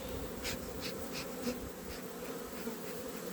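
Honey bees buzz steadily at a nuc hive during a spring colony check, a continuous close drone with a few louder swells as individual bees pass near.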